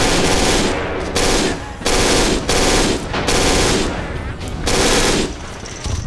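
Bursts of MG42 machine gun fire in the World War II strategy game Men of War: Stalingrad, loud rapid rattling volleys in five or six long sustained bursts separated by brief gaps, with battle noise continuing underneath.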